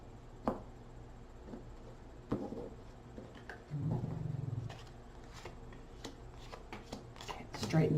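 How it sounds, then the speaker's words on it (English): Tarot cards are shuffled and handled by hand in a quiet room, with scattered soft taps, slides and a short riffle burst near the middle, faint and close, with a voice speaking low among the card sounds. "One more shuffle."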